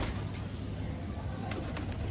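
Pigeons coo inside a loft, soft low throaty calls repeating close by over a constant background hum, with a few faint rustles near the end.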